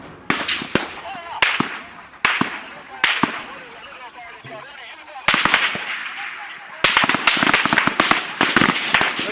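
Loud, sharp gunfire cracks close by, coming in rapid clustered volleys separated by short lulls, with a voice faintly audible underneath.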